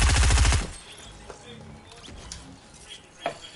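A quick burst of rapid submachine-gun fire in an online shooter game rattles loudly at the start, then cuts off into quieter game ambience with a few faint distant shots and clicks.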